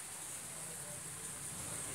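Steady rain falls during a bitterly cold winter shower, a constant soft hiss with a faint broadband wash and no clear individual drops, continuous and even throughout.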